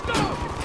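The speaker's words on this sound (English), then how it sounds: "They're chucking grenades now" Grenade blasts and gunfire in the Call of Duty Modern Warfare 3 video game sound as a loud, dense burst of booming, crackling explosions with deep low rumble, heard close and alone.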